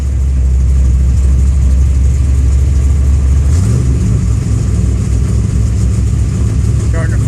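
A car engine is given gas, a steady, loud idle-like rumble that shifts upward in pitch midway as the revs climb and hold.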